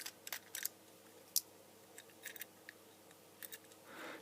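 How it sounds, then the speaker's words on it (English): Small screws being backed out of a Chinese LED lamp: faint, quiet clicks and light metallic ticks scattered unevenly across a few seconds, with one sharper snap near the middle. "let's undo these screws"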